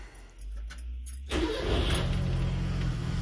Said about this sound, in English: So I'm going to start this thing up and see how it sounds.